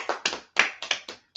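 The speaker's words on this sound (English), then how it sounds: "Clap it up for that sister" A handful of sparse handclaps from a small audience applauding a woman, about seven uneven claps, close and fairly dry.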